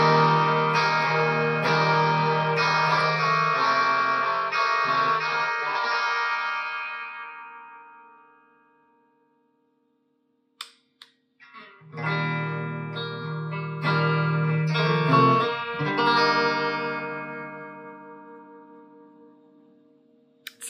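An electric guitar on its bridge pickup plays through a TC Electronic Ampworx preamp pedal. Two strummed, effected chord phrases ring out and slowly decay, with a brief silence between them.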